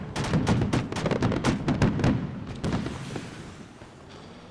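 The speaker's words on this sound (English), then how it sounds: "They're really firing these AT missiles." Heavy combat in Arma 3 with anti-tank missiles being fired, a dense run of loud, rapid blasts and gunfire crowding together for a few seconds before thinning into a quieter rumble, with no voices.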